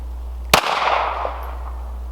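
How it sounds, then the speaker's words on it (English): A single sharp pistol shot from a .380 loaded with hollow points, fired at a steel military helmet, cracks loudly and then rings off in a short decaying metallic wash outdoors. "So we'll see what happens if we shoot it with these 380s."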